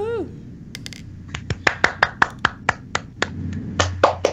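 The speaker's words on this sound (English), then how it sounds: "Applaud her." A handful of people clapping for a listener during a live podcast, roughly a dozen crisp, evenly spaced claps close to the microphone, with brief voices cheering around them.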